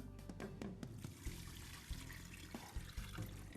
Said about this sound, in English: And then we're going to add about a quart of water.